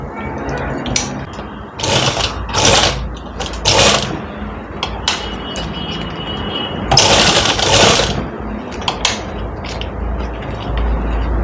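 A sewing machine stitches elastic onto a canvas strip for a belt-style saree, running in several close, loud bursts of rapid whirring with short pauses between them.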